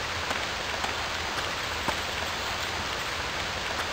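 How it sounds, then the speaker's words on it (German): Steady, heavy rain pattering on a roof in the freeware survival game Stranded II, a constant dense hiss with occasional sharper drips, heard alone without talk. "es regnet zwar durchs Dach, aber das kann man akzeptieren, finde ich"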